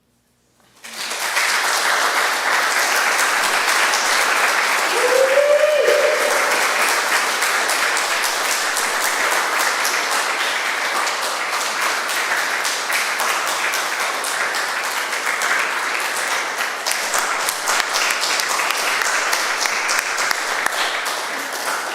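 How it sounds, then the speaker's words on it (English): A room full of listeners claps steadily for poetry readers at a literary reading event, the applause starting abruptly and holding at an even, lively level, with a brief whoop or voice rising near the start. "Can we give one more round of applause for all of our great readers today?"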